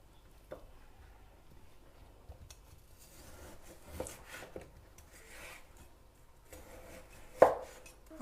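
A knife works through tough, still-firm meat being cut for maqluba, with faint rubbing strokes and a few sharp chopping knocks spread over a quiet background, the clearest near the end.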